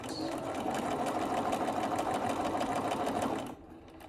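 A sewing machine stitches a pleated fabric mask, a fast, even mechanical whir running loud and steady before cutting off abruptly near the end.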